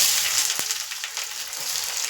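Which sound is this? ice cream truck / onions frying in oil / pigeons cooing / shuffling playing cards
onions frying in oil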